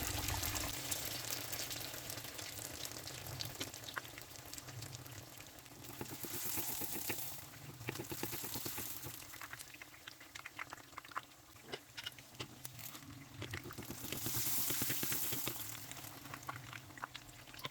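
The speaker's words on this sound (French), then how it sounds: "Faites chauffer de l'huile dans une poêle, puis déposez le bourrec délicatement" Bourek, an Algerian Annabi pastry, frying in hot oil in a pan, giving a steady sizzling crackle throughout with occasional louder bursts of spitting oil.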